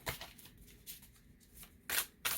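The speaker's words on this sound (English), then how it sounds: "these cards are a really good size to shuffle." Tarot cards shuffled in several quick riffling bursts, close by, with brief pauses between and a louder flurry near the end.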